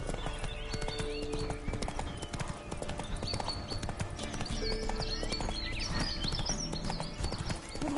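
Roach, the horse in The Witcher 3, gallops with quick rhythmic hoofbeats that run steadily throughout, loud and close, layered over game music and ambience.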